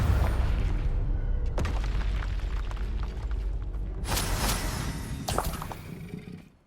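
A Confringo fire spell from the Hogwarts Legacy video game explodes with a loud booming blast, followed by crackling, whooshing debris and a second burst of sharp shattering impacts, with no talking.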